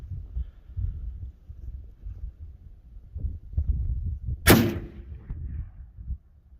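A Tikka T3 custom rifle fires a single sharp, loud shot outdoors, preceded by low wind rumble and followed by a short fading echo.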